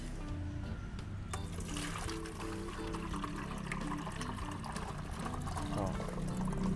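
Water is poured through a scoop to strain mosquito larvae, a steady trickling pour running close to the microphone for several seconds while a person talks over it.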